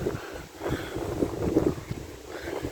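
Gusty wind at a caravan park in Torquay, Australia, buffeting the microphone in rough, rumbling surges that rise and fall, with no talk over it.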